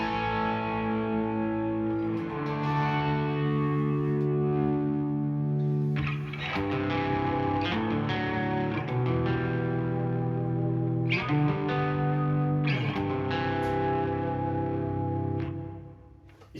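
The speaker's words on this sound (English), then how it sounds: "So I've got the Strymon Flint, which is just it's just adding some reverb." Electric guitar chords ring through a Strymon Flint reverb pedal set to its 80s mode, lush sustained washes of sound that overlap and decay over several strums, played alone without talk.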